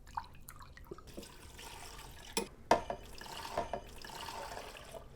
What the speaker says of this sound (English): So we're going to fill this twice from our distilled water.